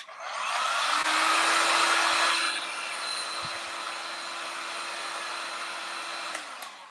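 A hair dryer blows a steady broadband whoosh with a low hum over fresh paint on a cone shape, louder for the first couple of seconds, then settling to a slightly softer continuous roar until it clicks off near the end.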